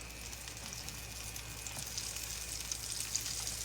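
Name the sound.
flour-coated jalapeños frying in oil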